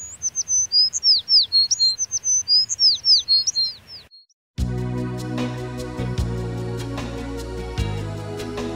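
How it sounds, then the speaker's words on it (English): Birds sing in a park in Umbria, Italy, with bright, repeated chirping phrases for about four seconds, then a short silence before steady music takes over. "the harmonious song of the birds"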